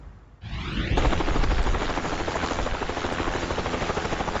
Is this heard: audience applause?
no